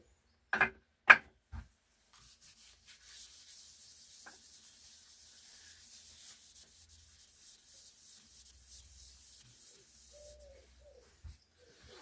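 Cellulose sanding sealer being applied to a sycamore bowl spinning on a wood lathe: a few sharp knocks, then a long faint rubbing hiss, with soft pigeon-like cooing faintly in the background.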